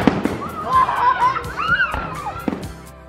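New Year's Eve fireworks going off outdoors: sharp pops and whistling rising shells in a short series, heard over nearby crowd voices and laughter.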